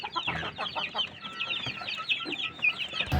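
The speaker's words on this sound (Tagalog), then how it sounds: "manok natin? Nagkaroon siya ng pamamaga dahil sa sipon." Backyard chickens clucking nearby, a busy overlapping chatter of soft clucks and chirps from several birds, continuous with no talking.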